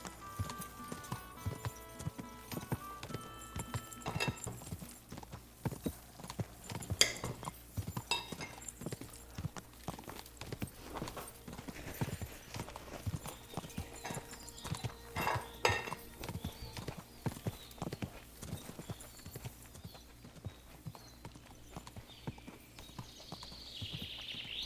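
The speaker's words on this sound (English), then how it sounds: "Isso aqui é um cavalo rápido, pô." Hooves of a fast horse galloping in Kingdom Come: Deliverance 2, a steady rapid clip-clop rhythm running throughout with faint tack jingles, fairly quiet and without speech.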